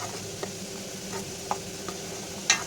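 Dal frying in a pan in a home kitchen, a soft steady sizzle with a few light stirring clicks and taps spaced across a few seconds.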